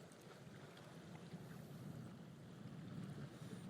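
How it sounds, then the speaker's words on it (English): Wind buffets outdoors by the water, a steady low rumbling roar of gusts against the microphone with a faint hiss above, continuous and close, no talking. "The bloody wind."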